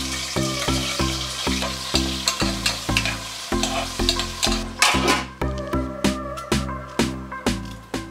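Onions fry in oil with bay leaf, cloves, cardamom, cinnamon and fennel for kuruma kulambu, giving a constant sizzle under rhythmic, evenly spaced scraping strokes of a spoon against the pan, with a steady musical hum in the background.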